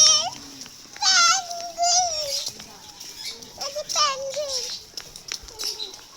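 Birds call in repeated chirping, warbling phrases, heard close and clear during an outing, while a child and adults chatter over them.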